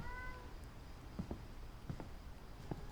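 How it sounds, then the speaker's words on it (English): A domestic cat meows several times indoors, short faint calls spaced through a few seconds over low room noise and a soft background tone. "Sorry if you hear my cat meowing."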